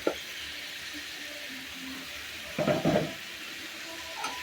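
Pangas fish slid into a hot pan of oil in a village kitchen, giving a steady sizzle with a louder burst of crackling frying partway through and a small clink at the start.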